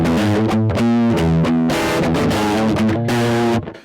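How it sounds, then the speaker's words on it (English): Electric guitar plays chords with heavy distortion through a Donner DI pedal with no cab simulator, giving a thin, nasal, buzzy tone. It sounds loud and sustained, close up, with no talking. "your distortion is going to sound pretty nasally like this"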